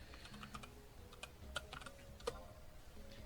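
Scattered keystrokes on a computer keyboard while setting up a Lua file for Final Fantasy XI: faint, irregular clicks with a couple of sharper taps, close and quiet, with no voices.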